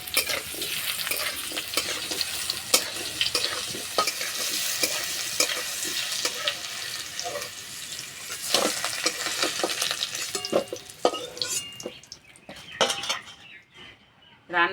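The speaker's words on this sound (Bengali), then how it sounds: "হালকা করে একটু ভেজে নেব।" Sliced hog plums (amra) lightly frying in oil, sizzling steadily while a utensil stirs and clinks against the pan, close and fairly loud before quieting near the end.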